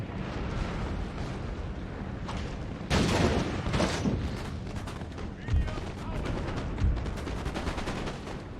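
Musket volleys and cannon fire from a Napoleonic-era battle in Napoleon: Total War crackle and boom steadily, with several loud heavier blasts standing out over continuous gunfire and a talking voice underneath.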